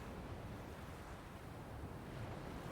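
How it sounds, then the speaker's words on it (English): Water poured into a bucket hanging from a hat stand in the adventure game Secret Files 2, a steady broadband rushing wash that runs evenly through the whole stretch with no voices over it. "I'll just pour the water into the bucket hanging from the hat stand."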